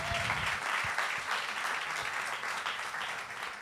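Dense, steady applause from an audience filling a conference hall during a round-table discussion on horizontal governance, loud and continuous throughout with no talking over it.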